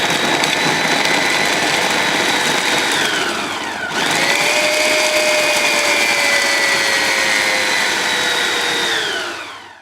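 A food processor on its chop setting blitzes Parmesan cheese into crumbs, a loud whirring motor whine that dips briefly partway through, then spins back up and runs steadily before winding down.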